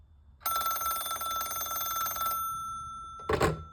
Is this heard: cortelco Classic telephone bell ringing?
yes